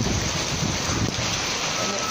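Hailstones pour down outside a hotel room in Makkah, Saudi Arabia, a thick, even hiss of falling ice with a low rumbling undertone, steady and fairly loud for the whole moment.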